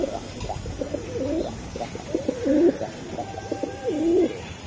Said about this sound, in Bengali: এটা নতুন কবুতর তো, এগুলা এই আরো কবুতর